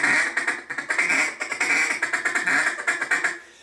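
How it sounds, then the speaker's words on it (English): A handheld duck call blown in a quick run of sharp, nasal quacks, close and loud, with a steady, bouncing rhythm that eases off toward the end. "And I'll also throw a quack in there."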